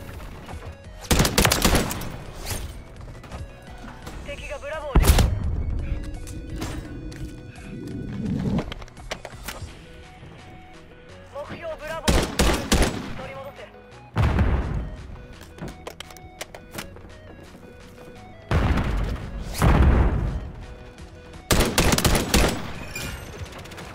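Gunfire in Call of Duty: Modern Warfare III crackles in loud rapid bursts, several volleys separated by quieter stretches of game ambience, with no one talking.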